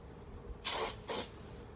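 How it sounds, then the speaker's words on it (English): Two short bursts of deodorant spray hissing from an aerosol can onto the armpits, the first slightly longer, close and crisp in a quiet room. "So the first thing you want to do is spray each armpit"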